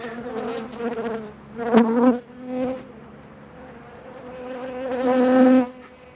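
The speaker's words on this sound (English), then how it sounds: "lots and lots of bees in this box" Honey bees buzzing in a hive box during winter dry feeding, close and loud with shifting droning tones that swell and fade as individual bees fly near, rising to a strong burst toward the end.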